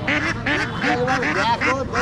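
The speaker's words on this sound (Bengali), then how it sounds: "অসংখ্য হাঁস দেখতে পাচ্ছেন" A crowd of ducks for sale at a busy village livestock market quacks loudly and continuously, with overlapping nasal calls close by in a dense, noisy chorus.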